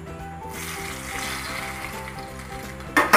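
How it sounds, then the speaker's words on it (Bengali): Hot oil poured into pakora batter for paneer pakora gives a brief, moderate sizzle over low steady background hum, ending in a louder crackling burst as the oil hits. "তেলটা গরম হয়ে গেছে, আমি একটু গরম তেল ব্যাটারের মধ্যে মিশিয়ে দিচ্ছি"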